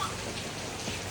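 Steady rain falls throughout as an even, dense hiss with no breaks. Nobody speaks.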